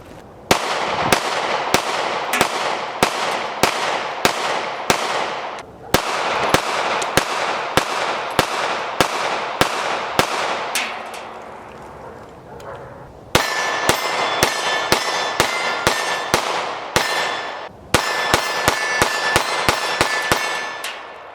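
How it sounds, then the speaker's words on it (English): Pistol shots from S&W M&P Shield EZ handguns in 9mm and .380 at a shooting range, fired in rapid strings of sharp, loud reports with brief pauses between groups and no talking. "We're also going to shoot the 380 side by side just to get a little bit of recoil comparison between the two."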